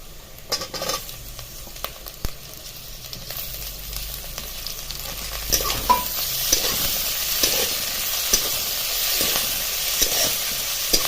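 Onions frying in a pan for bazaar amti are stirred continuously, a close sizzle broken by regular scraping and clinking strokes of the spatula that grow busier and louder as it goes on.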